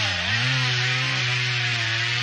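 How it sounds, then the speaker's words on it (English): A chainsaw cuts into a tree, its engine holding a loud, steady buzzing drone that rises slightly in pitch at the start and then stays constant, close by and alone without voices. "Someone is sawing a tree."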